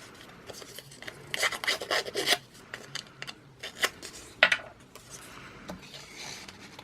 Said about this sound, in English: every little element that I'm using, I'm also distressing with my distress tool.